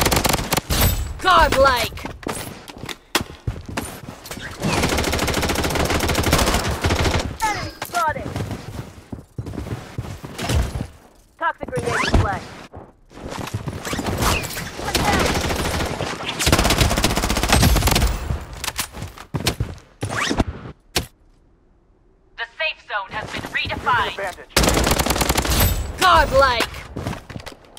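Gunfire from a battle in the shooter Blood Strike: long, loud bursts of automatic fire repeat across the whole stretch, broken by short pauses and scattered single shots, with a game announcer voice calling out at one point.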